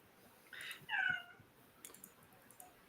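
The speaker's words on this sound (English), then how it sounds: "There's a cat mewing." A house cat gives two soft meows in quick succession, faint and somewhat distant, followed by light clicking and rustling in an otherwise quiet room.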